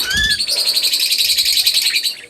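Budgerigars in a pet bird colony chirping rapidly and continuously, bright repeated tweets close by, with a brief low thump at the start and no speech.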